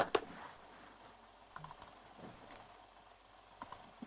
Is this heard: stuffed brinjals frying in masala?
no